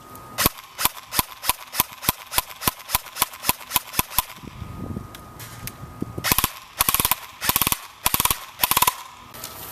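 A Makr-9 airsoft rifle with an amplifier, new CNC hop-up, modified bucking and Matrix barrel fires a rapid run of sharp mechanical shots, then a brief pause and further uneven bursts, loud and close with no talking.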